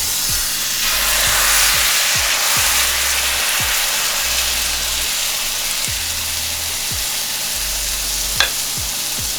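Pancake batter fries steadily in browned unsalted butter, a continuous close sizzle and hiss with soft periodic stirring or scraping clicks and one brief sharp tick near the end, no voices.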